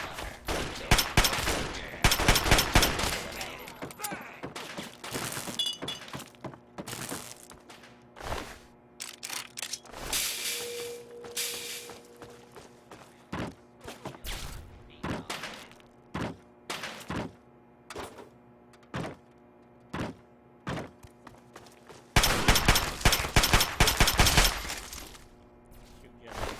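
Gunfire erupts in scattered bursts in Fallout 3 video game, clustered volleys with quieter gaps between them and a final heavy barrage near the end, while a voice talks intermittently.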